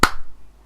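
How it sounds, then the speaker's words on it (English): A single sharp hand clap, close and loud, with a short room ring fading quickly afterward. "1, 2, 3, clap."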